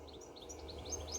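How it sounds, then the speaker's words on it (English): A small bird sings outdoors in a quick series of high, bright chirps repeating in short bursts, faint and somewhat distant over a low steady background hum. "Can you hear the bird? Cute, isn't it?"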